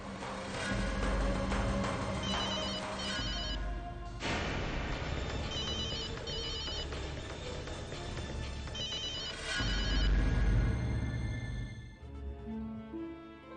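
A telephone rings over and over and no one answers it. The ringtone is loud and close, repeating in bursts over a dense, continuous background for about thirteen seconds.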